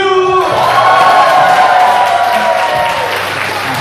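Loud crowd applause at a Korean mission church Thanksgiving event, many hands clapping close and dense, mixed with cheers and whoops from the audience at the opening before the clapping carries on steadily.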